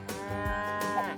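A single cow moo, a drawn-out, resonant low call heard on its own at moderate loudness.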